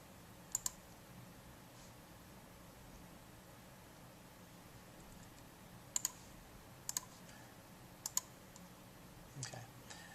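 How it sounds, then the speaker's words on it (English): Several faint, sharp mouse clicks on a computer come in scattered pairs and singles against a quiet hiss, with a light rustle near the end. "I'm going to go ahead and click on Save here."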